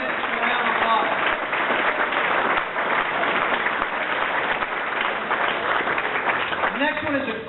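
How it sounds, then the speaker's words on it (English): Audience applause rises after a winner of a silver coin is announced at an event, a dense, sustained wash of clapping mixed with crowd voices and some talk. "Give a round of applause"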